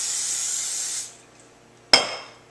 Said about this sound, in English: we're going to put a little non-stick cooking spray on the bottom so our crust doesn't stick